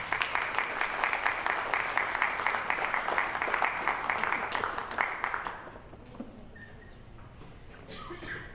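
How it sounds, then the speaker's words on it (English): An audience at the CNCF Awards 2015 gives a round of applause for the Cayman Islands folk singers, steady dense clapping for about five seconds that then fades into quiet room noise. "Please give them a round of applause."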